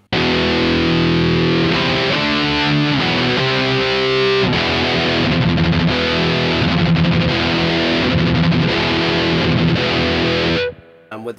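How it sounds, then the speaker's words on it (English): Electric guitar plays through a Marshall amp on its crunch channel, loud overdriven chords and riffs with gritty distortion, ringing steadily for about ten seconds before cutting off abruptly. "So I've got my Marshall on its crunch channel"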